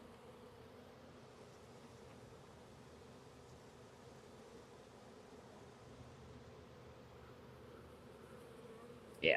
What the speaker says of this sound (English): I'll just end up shaking the rest of these bees in.